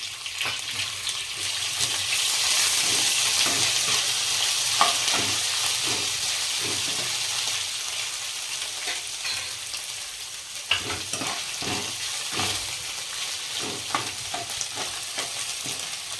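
Steady hissing sizzle as green chillies, garlic-ginger paste and fresh coriander fry in a pan for paneer masala, with soft intermittent spatula stirring throughout.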